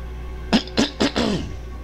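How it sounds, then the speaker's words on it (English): A person coughs in a short burst of three or four rough coughs, close and fairly loud, with quiet background before and after. "excuse my cough"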